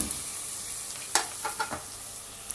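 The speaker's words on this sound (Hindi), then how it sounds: "और इसको फ्राई करते हैं अच्छी तरह।" Okra frying in a pan with green chili and tomato, a soft steady sizzle broken by a few brief stirring scrapes.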